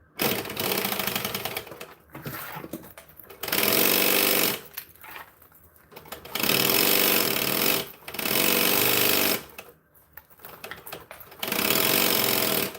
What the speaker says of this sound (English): That's why I'm sewing the same bag a million times over.